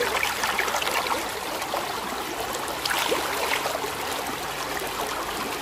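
Fast-moving river water rushes and splashes around rocks on a foreshore, a steady broadband wash that stays fairly loud and close throughout, with brief surges near the start and around the middle.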